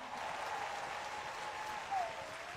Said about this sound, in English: Clap your hands to the Lord Jesus.